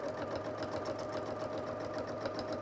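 A sewing machine stitches in the ditch on a quilt while a quilting template is pressed against the presser foot, giving a steady, close, continuous mechanical whir with fast even stitch pulses throughout.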